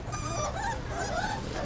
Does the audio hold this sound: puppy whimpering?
yes